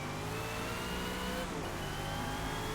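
A car engine in the racing video game Forza drones and revs steadily and loudly throughout, its tone shifting slightly as it rises, with no voices over it.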